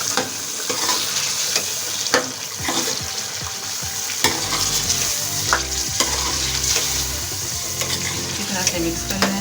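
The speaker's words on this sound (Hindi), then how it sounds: "अच्छी तरह से मिक्स कर लें।" Chicken karahi with yogurt being mixed in a wok, restaurant style: a loud, steady sizzle with repeated scraping stirs and sharp metal clicks of the spoon, close up throughout.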